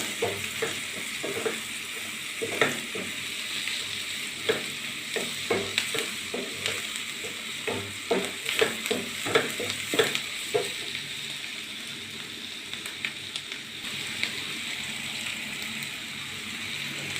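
An onion mixture for kolli vada is stirred and fried in a pan, with steady sizzling and a fast series of spoon scrapes and taps against the pan.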